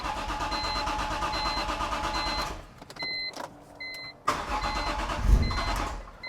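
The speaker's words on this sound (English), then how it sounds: "Give it a couple of little cranks. Gotta get the fuel pressure built up." A BMW E46 M3 with a newly installed S54 engine cranks in short bursts as fuel pressure builds, with clicks and electric whines between, then catches and fires up loud and close.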